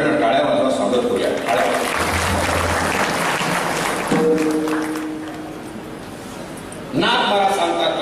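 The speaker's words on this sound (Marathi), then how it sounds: "एकदा जोरानं टाळ्या वाजवा" Audience at a Marathi kirtan claps to welcome a police officer, a burst of applause that mixes with someone talking over a sound system, fades midway, then swells again near the end.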